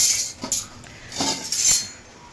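Heavy, long metal spoons salvaged from an old ship, handled at close range so they knock together in a few sharp, ringing clinks separated by short pauses.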